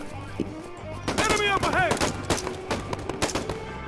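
Rapid bursts of gunfire in a Vietnam War video game, close and loud, with automatic volleys and single shots scattered over a few seconds among other game sounds.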